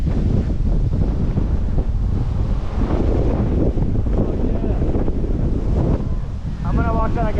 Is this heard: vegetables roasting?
no